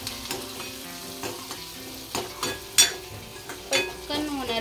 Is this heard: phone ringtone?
no